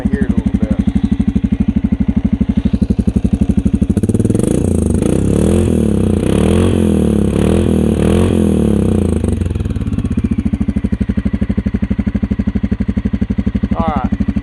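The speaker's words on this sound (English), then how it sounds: "let me try to rev it up and see if you can kind of hear it a little bit" A 2019 Suzuki King Quad 750 ATV with a spark arrestor idles with a steady low thrum, then revs up hard for about six seconds with a rising, throbbing roar before dropping back to a loud, even idle.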